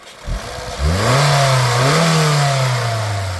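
A 2010 Honda City V AMT petrol engine revs up sharply, its pitch climbing and holding in a loud, sustained roar with a slight wobble, close by.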